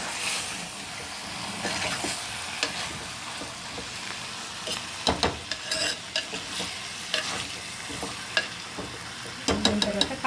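A spoon stirs and scrapes food around a frying pan over a constant sizzle, with faint clicks at first and then a run of sharper knocks and scrapes near the end, close.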